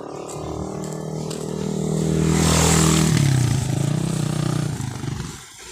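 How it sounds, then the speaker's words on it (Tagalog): Several tricycles, motorcycle-sidecar taxis, idle and rev as they pull in to park along a street, with engines droning loud and close before easing off. "ito yung paparking yung mga tricycle ayan"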